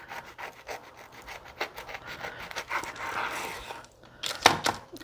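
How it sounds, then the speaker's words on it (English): A serrated knife saws through a loaf of cranberry pistachio biscotti, producing close, gritty rasping strokes of uneven rhythm with soft crunchy scrapes and a louder cut near the end. "So you want to use a serrated knife because you're going to saw through it and try not to make it crumble."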